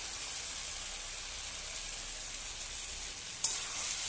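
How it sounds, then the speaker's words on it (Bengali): Fried potato and cauliflower pieces tipped into hot spices in a pan for a Bengali katla fish curry, giving a steady, close, loud sizzle with a brief clatter near the end. "এবার আমি এতে দিয়ে দিব ভেজে রাখা আলু আর ফুলকপি"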